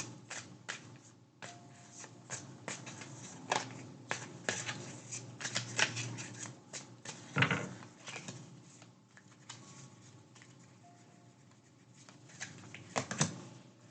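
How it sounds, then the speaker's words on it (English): Tarot cards are shuffled and drawn from a deck, a close run of papery riffles, flicks and slaps that come in irregular bursts, loud at times and quiet between, with no talk. "Let me just get a few more cards here and see what's coming through."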